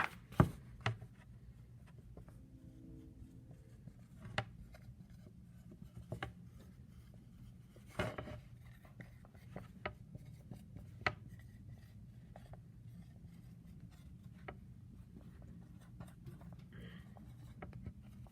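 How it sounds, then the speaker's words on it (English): Handwriting in a notebook, faint scratchy pen strokes with scattered light taps and knocks over a low steady room hum, close and quiet, spread over a long stretch with no talking. "So I'm going to write down a piece of evidence"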